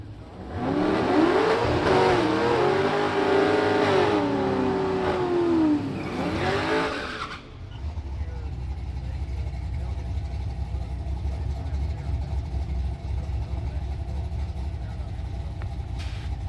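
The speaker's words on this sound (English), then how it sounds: "watch that late model F-150 make another pass and rip to a 691 at 105" Late-model Ford F-150 pickup on a drag strip, engine roaring and climbing through the gears under a loud announcer's commentary, then fading into a distant rumble as the pass ends.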